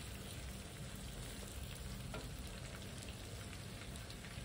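Chicken pieces fry in a pan with tomato for a pulao, giving a steady, dense sizzle and crackle throughout at moderate volume, with no voices.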